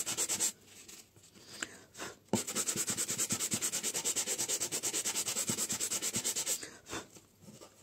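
Steady hand sanding of the paste relief on a vintage basket, a rapid rhythmic rasping scrape that runs continuously for several seconds, close up, with a brief pause near the start.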